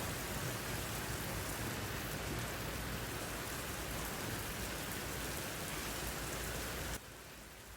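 Steady, dense rain pours down outdoors where a child is swimming, a loud continuous hiss of drops on water and surfaces that drops off slightly near the end.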